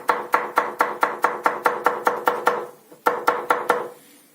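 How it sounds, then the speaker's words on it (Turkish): Rapid, steady knife chops on a cutting board, chopping garlic cloves into peppers, about a dozen even strikes, a brief pause, then several more close-up chops. "Onları da hemen biberin içerisine doğruyorum."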